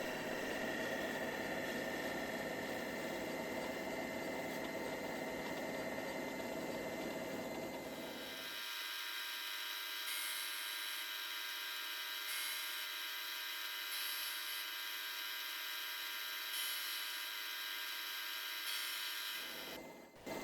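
A wood lathe runs steadily while shaping a soft-face hammer, with a constant mechanical whine and hum. The low rumble drops away partway through, leaving a thinner high drone with intermittent bright scraping tones before the low hum briefly returns.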